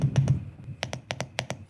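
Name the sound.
keyboard spacebar being pressed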